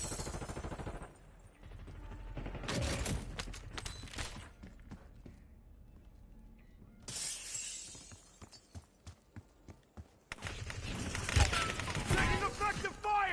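Gunfire in a military shooter video game: dense bursts of shots and shattering impacts, then a quieter stretch of spaced single shots before another heavy burst, with game voice callouts over the action.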